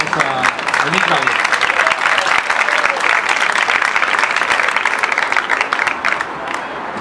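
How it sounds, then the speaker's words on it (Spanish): An audience at a poetry reading in a regional library applauds a poet, steady dense clapping for about seven seconds that eases slightly at the end. "Un aplauso para él"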